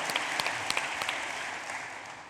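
Delegates at a Scottish National Party conference session give a round of applause for a first-time speaker, a steady mass of clapping with a few sharp individual claps standing out before it gradually eases.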